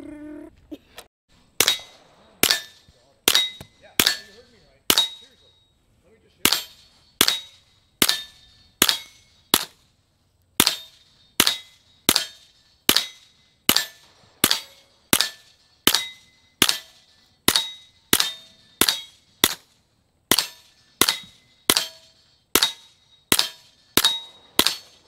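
A semi-automatic gun fires at a target range in a long series of about thirty sharp, evenly spaced shots with only brief pauses, each crack loud and close with a short ringing tail.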